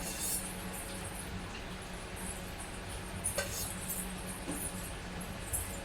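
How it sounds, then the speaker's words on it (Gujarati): A spoon stirs stuffed whole eggplant shaak with oil in a cooking pot, making soft continuous scraping with scattered light metallic clinks against the pot. "હવે આને મસ્ત મિક્સ કરી લઉં અને હલાવી લઉં છું"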